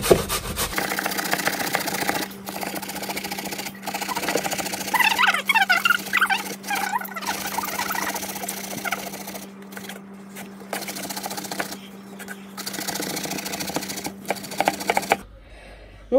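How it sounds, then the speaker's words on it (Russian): Zucchini being rubbed against a kitchen grater, a steady close scraping rasp in repeated strokes over a constant low hum, with no talking. "натирать на терке."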